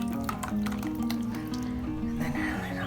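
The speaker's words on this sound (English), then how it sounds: "Just pour a little here. See, just so it gets completely swirled." Cold process pumpkin spice soap batter poured for a light swirl, making soft wet glugs, drips and squishes close by.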